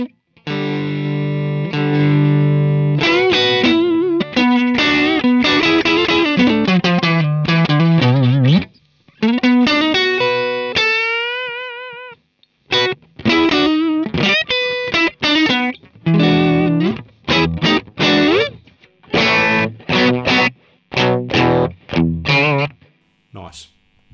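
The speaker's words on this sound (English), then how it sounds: "Blues Breaker, Marshall Blues Breaker." An electric guitar plays through the Marshall Blues Breaker amp model of a NUX MG-300, sounding crunchy and lightly driven. Sustained chords and bent notes give way to choppy, staccato riffs with short gaps, loud and close.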